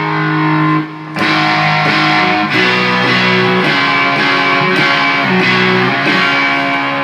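A loud electric guitar with heavy distortion plays sustained, gritty chords that change every second or so, thick and saturated.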